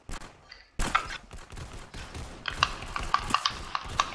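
Gunfire from the Roblox game Arsenal rattles out in quick bursts of sharp shots. A short pause is followed by rapid repeated cracks that grow denser toward the end.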